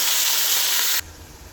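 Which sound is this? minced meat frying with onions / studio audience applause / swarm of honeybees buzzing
minced meat frying with onions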